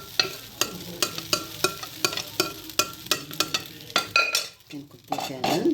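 Dough frying in an oiled pan, close up, with regular scraping and tapping strokes of a utensil over a soft sizzle, no voices.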